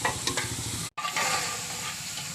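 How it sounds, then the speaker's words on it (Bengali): Vegetables sizzle and fry in a pan of sautéed spices for a puja offering, a continuous bright crackle with a brief silent gap before the frying resumes, close and steady. "সবজি যাচ্ছে, মশলা কষানো হয়ে গেছে"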